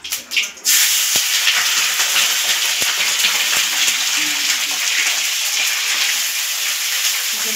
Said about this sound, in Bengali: এবার আমি ঢালবো চিকেনটাও আমি একটু ভেজে নেব বন্ধুরা